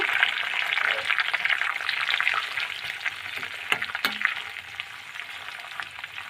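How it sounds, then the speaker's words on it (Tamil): Hibiscus flowers and curry leaves fry in hot oil on low heat, a steady close crackling sizzle with a few sharp clicks from stirring, fading slightly toward the end. "அடுத்து செம்பருத்தி பூ, கருவேப்பிலை நல்லா முறை நான் இருக்கிற மாதிரி அளவுக்கு ஆகணும்"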